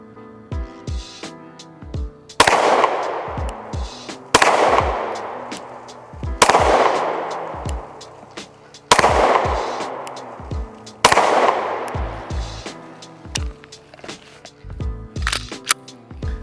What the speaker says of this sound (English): I'm gonna shoot 5 rounds, try to get them center mass at 15 yards